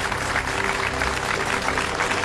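A studio audience at a television dating show claps in steady, dense applause that fills the room, with no voices standing out over it.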